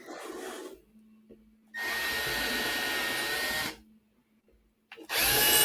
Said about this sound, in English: pre-drilling those holes